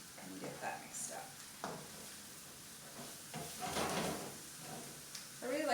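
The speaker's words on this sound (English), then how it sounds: "I'm going to add our mushrooms with that extra butter and get that mixed up" Mushrooms stirred into extra butter in a hot pan, a soft steady sizzle with scraping utensil strokes, close by, while a voice talks over it.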